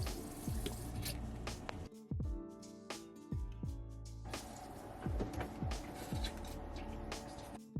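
Gurgling, sputtering water pushing through freshly installed faucet lines in a Ford Transit van kitchen, with irregular spurts, drips and bubbling pops recurring throughout at close range.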